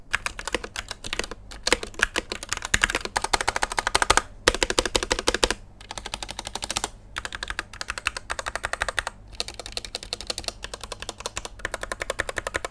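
Rapid, continuous typing on a mechanical keyboard with Gateron Yellow switches (XVX M61 60% wireless), crisp clacks in quick bursts with short pauses between runs, close up.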